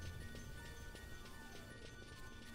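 Horse hooves clip-clop in the Final Fantasy XII video game, a soft, steady patter of hoofbeats set low under a dense, continuous game soundtrack and ambience.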